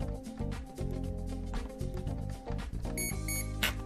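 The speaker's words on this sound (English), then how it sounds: "we're gonna plug in the battery and we're gonna hear two beeps" An RC boat's Hobbywing Seaking electronic speed controller gives several short calibration beeps and tones in quick succession, fairly loud and close, with a clicking mechanical background.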